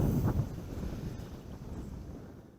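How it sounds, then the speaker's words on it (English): Steady wind buffets the microphone at a campsite, a low, rumbling rush that holds for a few seconds and fades slightly toward the end, with no voices. "It's still windy, but it's dropped a little bit."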